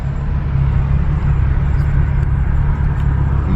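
Car driving in city traffic, a loud, constant low engine and road rumble from inside the cabin with no letup.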